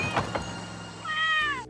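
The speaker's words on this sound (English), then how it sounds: "A bunch of cats storm the van" Cartoon cats in Scooby-Doo on Zombie Island, storming the Mystery Machine van, let out a few short meows followed by a longer, clear, close meow, with a soft thunk partway through.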